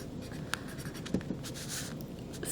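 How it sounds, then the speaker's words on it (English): Pen or marker writing notes on a surface during a maths explanation, soft scratchy strokes at close range with a few brief louder taps, over quiet room tone. "so if I write this down"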